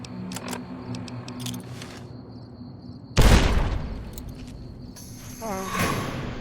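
A grenade detonates in Fallout: New Vegas with a single sudden, loud, close blast that rolls off into a decaying rumble. Quieter game sounds and clicks come before it, and a rising electronic tone follows.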